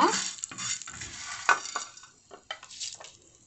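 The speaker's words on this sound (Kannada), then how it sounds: "ಇದಕ್ಕೆ ಒಗ್ಗರಣೆ ಹಾಕ್ಕೊತಾ ಇದ್ದೀನಿ ಎರಡಕ್ಕೂ" Hot oil hisses and crackles sharply as tempering sizzles over coconut chutney and spicy chutney, loud at first then fading in bursts, close up with no voices.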